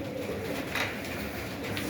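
Pigeons coo softly close by, low throaty calls over a steady background hum.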